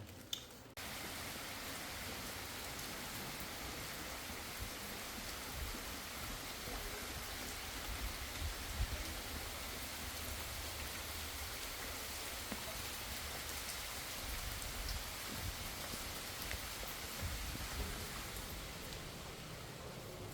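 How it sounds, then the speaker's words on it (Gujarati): Heavy unseasonal rain pours down steadily on a farm, a dense, continuous roar of drops hammering a surface, close and loud throughout with no pauses. "તો જોરદાર વરસાદ છે ભાઈ"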